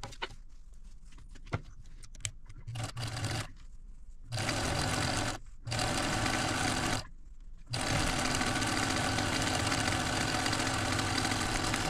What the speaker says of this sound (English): I'm gonna fold them like this lengthwise and sew a 1/4-inch seam